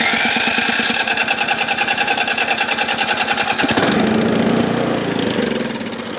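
Small single-cylinder engine on an abandoned Ariens snow blower running on prime, a loud, steady, rapid chugging that roughens and shifts partway through, then begins to fade near the end.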